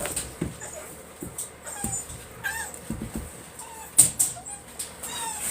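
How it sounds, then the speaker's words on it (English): Newborn American Bully puppies whimper and yip in scattered, high-pitched bursts close by, with soft thumps and shuffling between the cries and a louder squeal near the middle. "I make it a rule to never pick up a pup that's making noise"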